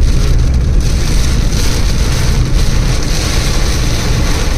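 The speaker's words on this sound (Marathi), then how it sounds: "पाऊस एवढा जोरात येतोय ना, समोरून रस्ता सुद्धा दिसत नाहीये।" Heavy monsoon rain on a Konkan road pours down in a loud, dense, unbroken roar that stays steady from start to finish, with no talking.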